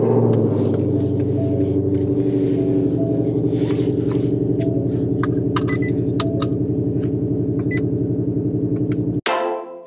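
A Ford Mustang GT500 fitted with a JLT intake drives on the road, its engine giving a loud, steady, close droning rumble that holds evenly before cutting off abruptly.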